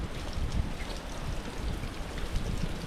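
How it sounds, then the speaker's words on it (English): Water from a tiny roadside waterfall pours and splashes in a steady broadband rush beside a New Zealand road, close and continuous with a faint wind rumble underneath. "there's a tiny little waterfall, water coming out over here."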